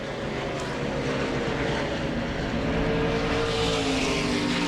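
NASCAR Craftsman Truck Series race trucks thunder past on an oval track out of turn four toward the checkered flag, a dense, loud, continuous engine roar with broad crowd-like noise underneath.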